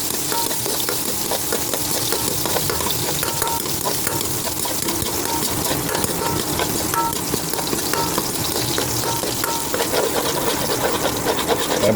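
Garlic frying and being stirred in a pan for duck adobo in coconut milk: a loud, continuous sizzle with scraping stir strokes running throughout, close up and with no talk.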